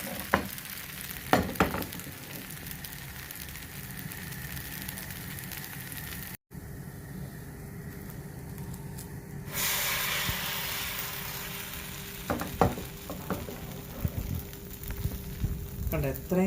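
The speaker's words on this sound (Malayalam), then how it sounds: "അതുപോലെ ചൂട് പാനിൽ വേണം ഒഴിച്ചെടുക്കാൻ" Neer dosa batter made with coconut milk poured onto a hot pan, with a bright steady sizzle rising partway through, followed by light utensil clinks and scrapes near the end.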